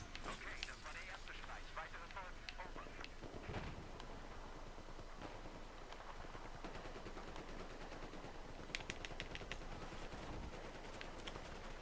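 MP90 gunfire in the video game Battlefield 4, quick automatic bursts crackling amid constant battle noise, with someone talking over much of it.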